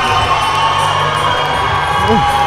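A crowd at a combat sports event, Universal Combat League and Carden Combat Sports WinterCrusade, roars and cheers continuously in a loud, dense wash, with scattered shouts and whoops rising through it.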